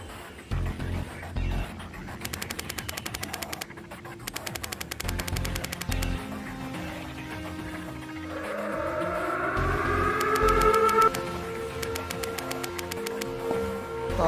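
Rapid bursts of automatic gunfire, some long and some clipped, crackle through a horror game about a mass ghost attack, then a rising, wailing alarm siren sweeps up and holds under a low game drone.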